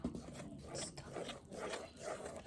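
Scotch pancake batter is stirred by hand in a bowl, giving a faint, steady rhythmic scraping and rubbing with repeated strokes.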